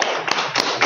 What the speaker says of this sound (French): Aidez-moi à l'applaudir.